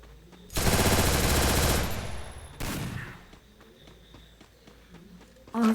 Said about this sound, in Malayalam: നമുക്കിതിനെ വെടി വെച്ചിടാം